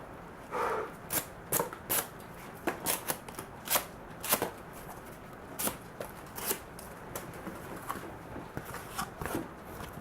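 A knife slicing through thick cardboard in extended cutting, giving a run of short, sharp scraping strokes at an irregular pace over steady background noise, with no talking.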